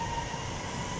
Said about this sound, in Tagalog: Yan na po yung MRT po.